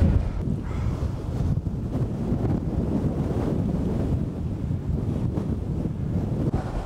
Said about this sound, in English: Whoa, it is windy